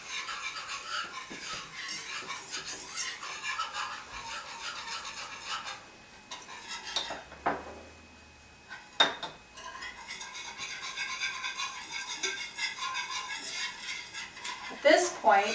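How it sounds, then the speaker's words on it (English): A whisk scrapes and rasps steadily against a pan while stirring cornstarch into olive oil, a continuous close rubbing rhythm with a short pause and a couple of sharper metallic knocks. "I have some olive oil in the pan, and I've added some cornstarch. And you want to whisk it so that you don't get lumps."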